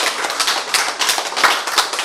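An audience at a Bible lecture claps steadily, a dense run of many hands that stays loud and close without a break and with no voices rising above it.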